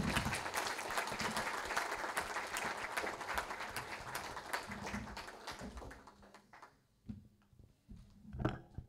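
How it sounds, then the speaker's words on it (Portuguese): A church congregation applauds loudly during a worship service, a dense burst of many hands clapping that fades after several seconds into scattered claps and quiet. "Aplauda bem forte o nome do Senhor,"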